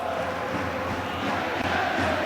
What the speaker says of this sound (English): the Charlton fans behind me applaud in raptures